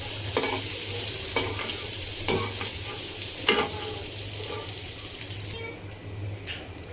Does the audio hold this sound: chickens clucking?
no